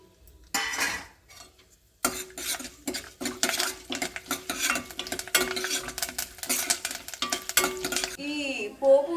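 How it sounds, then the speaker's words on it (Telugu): Tempering spices such as mustard seeds, chana dal, urad dal, cashews and curry leaves frying in a pan for tomato upma, crackling sizzle with spoon scraping and metal clinks, close and busy after a short quiet start. "ఈ పోపు దినుసులు ఫ్రై అయ్యేలోపుగా"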